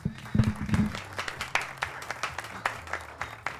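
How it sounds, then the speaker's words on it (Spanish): Applause on a Spanish-language live stream show, a scattered patter of claps from a small studio group after a brief voice at the start, moderately loud and thinning out toward the end. "Muy bien, aplausos, Stephen."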